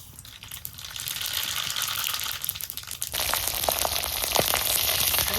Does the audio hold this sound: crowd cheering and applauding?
no